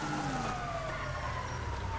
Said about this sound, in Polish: teraz karetka